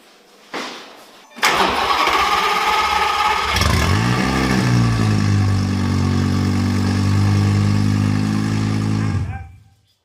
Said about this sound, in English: what we're going to do now is start the car